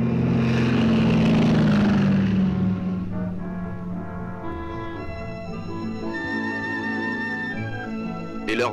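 A military propeller airliner drones loudly and steadily, its engine tone strongest at the start and then settling into a sustained hum with a faint higher whine.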